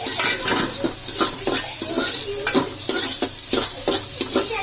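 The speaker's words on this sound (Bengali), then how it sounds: "এটাকে আমি এখন একটু বাদামি কালার না পর্যন্ত নাড়াতে থাকবো।" Ingredients for mango dal stirred in a frying pan: a steady sizzle with repeated scraping strokes of a spoon against the pan, close and fairly loud, no voices.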